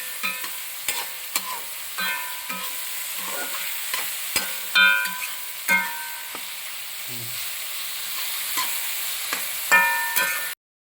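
Sliced onions frying in a pan for vegetable kurma are stirred, with a steady sizzle and repeated sharp scrapes and clinks of a spoon against the pan, spaced irregularly and close.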